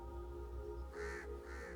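Crows caw in a few raspy, repeated calls against a low droning background hum, moderately close and without any talk.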